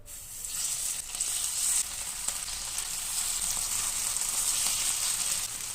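Steady, crackling sizzle of Izmir köfte meatballs frying in hot oil, continuous and close, with no voices.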